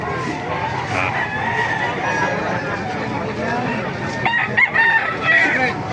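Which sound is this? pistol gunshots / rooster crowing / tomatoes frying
rooster crowing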